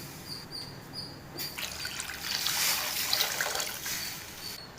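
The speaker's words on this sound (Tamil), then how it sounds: "சூப்பு அதனால் கொஞ்சம் நம்ம அதிகமாகவே தண்ணி சேர்த்துக்கலாம்." Water poured into a pot of homemade tomato soup, a steady splashing trickle that starts softly and swells louder midway, with no voices.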